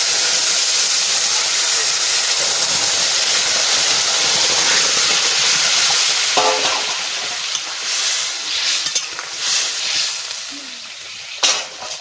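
Cauliflower and other vegetables hit hot oil with crushed garam masala and cumin, giving a loud, steady sizzle. The frying hiss eases slightly toward the end, with a few stirring clatters.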